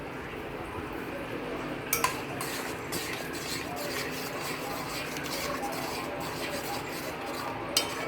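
Fish curry being stirred in a pot, a steady scraping and swishing with occasional utensil clinks against the metal, continuous and close throughout.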